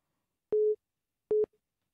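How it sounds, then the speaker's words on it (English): Two short electronic tones from a telephone, one slightly longer than the other, sound clearly and alone in an otherwise silent room. "Okay, the phone is ringing."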